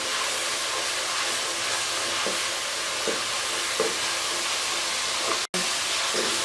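Spiced masala for a potato and pea curry fries steadily in a pan, a continuous close sizzle and hiss with occasional soft stirring scrapes and no voices.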